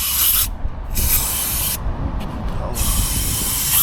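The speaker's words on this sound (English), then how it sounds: "Let's get some brake cleaner" Brake cleaner hisses loudly from an aerosol can in close, repeated bursts while parts are cleaned, with rubbing and scrubbing sounds between and beneath the sprays.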